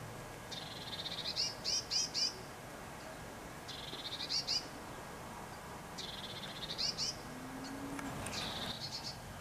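A blue tit scolds near nesting boxes in a garden, giving four separate bursts of fast, scratchy chattering calls spaced a few seconds apart over a quiet outdoor background.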